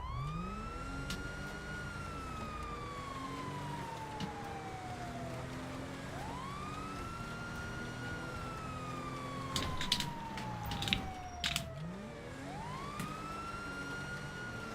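Wailing police car siren in GTA Online, sweeping up and down in long slow cycles, steady and fairly loud throughout, with a few brief clatters near the end.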